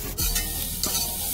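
Onions, carrots and peppers fry in olive oil in a pan, giving a dense close sizzle with two brief scraping stirs, no talking.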